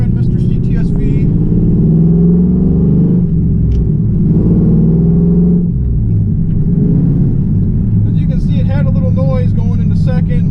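A 2001 Pontiac Trans Am's engine rumbles loudly from inside the cabin, its pitch dropping and rising through shifts into second, third and fourth gear, with someone talking over it.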